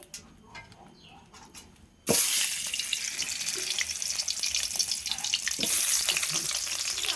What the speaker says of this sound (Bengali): কড়াতে আমি তেল দিয়ে দিয়েছি, তুলে দেবো মুড়ো